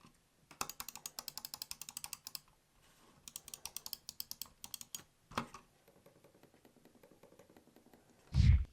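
The silent left and right buttons of a Jelly Comb ergonomic vertical mouse give quick runs of soft, muted clicks in two bursts, then a few scattered clicks and a louder thump at the end.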